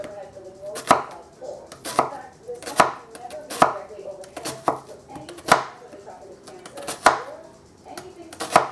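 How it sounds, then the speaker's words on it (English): A knife thinly slices a halved onion on a cutting board in a steady run of crisp, close chops roughly every second, with faint speech in the background between strokes. "cut the onion in half and very thinly slice it like this"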